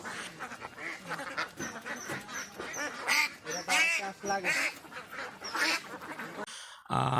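Four-month-old ducks crowded on a loaded transport vehicle headed for Noakhali quack loudly and continuously as a dense, overlapping flock, cutting off abruptly near the end.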